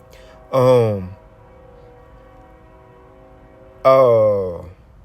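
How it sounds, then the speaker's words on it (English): A distant train horn sounds twice, each a long, steady multi-tone blast lasting about half a second to a second, separated by a few seconds of quiet low rumble. "for the background, I got a train, I guess, passing somewhere"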